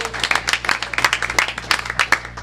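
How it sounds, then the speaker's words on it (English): Audience members at a city council meeting give a round of applause. The brisk, irregular clapping comes from several pairs of hands in a room, moderately close, and lasts a couple of seconds. "Let's give her a round of applause."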